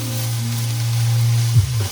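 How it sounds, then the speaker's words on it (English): Veggie chow mein is stirred in a hot pan, sizzling steadily with a low frying hum and a brief scrape of the utensil near the end, close and alone. "I'll give that a nice little stir."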